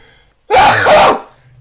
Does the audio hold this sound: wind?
no